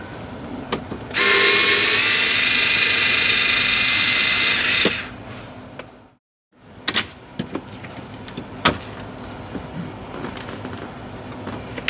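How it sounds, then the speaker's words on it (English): A power tool spinning out Torx screws from a car's fuse box cover gives one loud, sustained whir of about four seconds, then silence, followed by scattered clicks and knocks as the cover is handled, close up with no voices. "I'm hoping that I'll undo these screws here and possibly some underneath, and this whole unit should come out."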